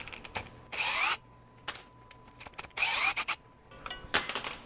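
Bosch GSB18V-1330C 18V hammer drill in high gear backing out a large fastener, several short bursts of motor whine with clicking clutch and metallic scraping between pulses, close and alone.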